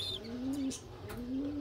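Domestic pigeons in a home loft coo nearby, two drawn-out rising coos over a soft background hum, with a faint chirp at the start.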